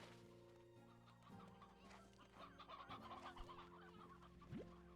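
Chickens cluck repeatedly in the Slime Rancher 2 game, a busy cluster of close clucks layered over steady low droning game tones, with no talking.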